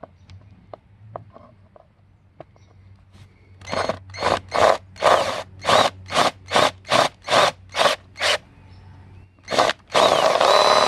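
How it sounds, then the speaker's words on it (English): A hand-held power drill bores into a part of a 2003 Ford Taurus in a series of about ten loud, evenly spaced bursts, ending in a longer continuous run. "we're gonna go back to the hand drill"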